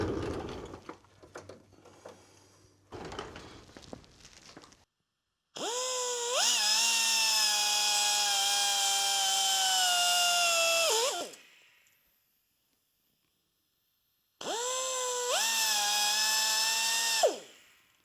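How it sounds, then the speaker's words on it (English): A cutoff wheel slices through a steel-braided hose in two long bursts, a loud whining power-tool scream that rises, holds steady and winds down, preceded by softer handling noises. "the cleanest way I found to cut it is with the cutoff wheel"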